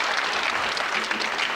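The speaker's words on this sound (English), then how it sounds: "And a big round of applause for that one" Short, full burst of audience applause in a billiards hall after a well-played bank shot in a pro match in Las Vegas, a dense crowd clapping evenly for just over a second with no voices.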